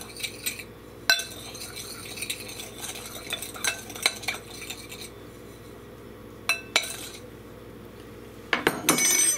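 Snickerdoodle dough balls are swirled around in a bowl of cinnamon sugar, producing soft scraping and gentle rattling against the bowl with occasional clinks, followed by a louder clatter at the end.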